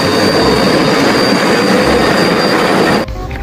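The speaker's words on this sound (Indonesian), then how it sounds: "Ini ada mainan kereta api." A toy train runs with a loud, continuous rattling whir and a thin high whine, cutting off abruptly near the end.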